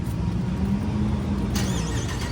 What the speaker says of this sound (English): I'm gonna give y'all a little crank up right quick. Show y'all exactly how it sounds at the gas station right now.